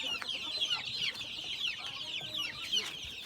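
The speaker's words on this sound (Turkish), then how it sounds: "Görmüş olduğunuz gibi rengarenk tavuklarımız." Colourful backyard chickens clucking and chattering together at close range, a steady murmur of overlapping calls with no talk.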